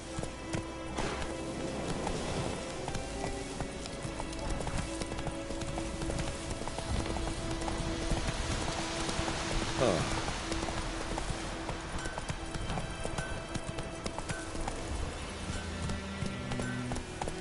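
Roach the horse galloping in The Witcher 3: Wild Hunt: steady rhythmic clip-clop of hooves on the ground, continuous and moderately close, over a soft rainy ambient bed.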